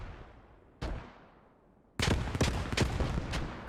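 Rifle and automatic gunfire in the WWII shooter Post Scriptum: a single sharp shot followed by a decaying tail, then a loud burst of rapid cracks spraying down a player at close range.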